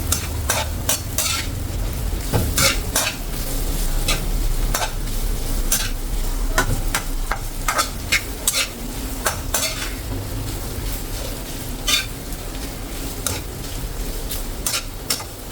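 Shredded chicken for chicken pastil is stirred in a pan with a little oil, a soft sizzle under repeated sharp scrapes and clinks of a utensil against the pan at an uneven rhythm.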